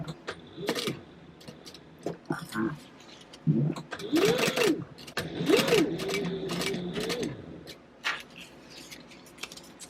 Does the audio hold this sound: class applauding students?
no